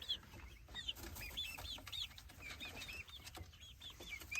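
Chickens and young chicks in a backyard coop, a busy mix of clucks and high peeping calls with short bursts of wing flapping, close and continuous throughout.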